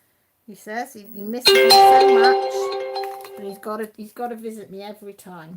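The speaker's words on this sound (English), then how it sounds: "That's my phone, if you're wondering what that is." A mobile phone notification rings out as a bright, sustained chime with a lingering tone, cutting in over a woman chatting nearby; she keeps talking before and after it.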